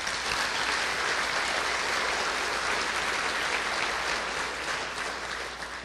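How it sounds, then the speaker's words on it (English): A large conference audience applauds steadily, a dense wash of clapping that holds loud throughout and eases slightly near the end. "please join me in a round of applause for all of our speakers today."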